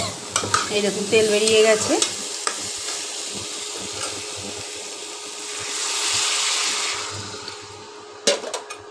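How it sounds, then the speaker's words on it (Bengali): A little water hits a pan of frying cauliflower curry, and the sizzle swells into a hissing rush midway before settling. Someone speaks briefly at the start, with faint stirring clatter around her voice. "এবার জল দিয়ে দেবো বন্ধুরা"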